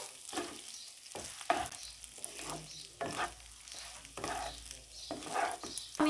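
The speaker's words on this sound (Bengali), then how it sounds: "এই চাউল কিন্তু এভাবে অল্প জালে ভাজতে ভাজতে চাউলের কালারটা চেঞ্জ হয়ে যাবে" Rice being stirred and dry-fried over a medium flame in a pan for pulao, with repeated scraping strokes and a steady low sizzle running throughout, close and fairly loud, no talking.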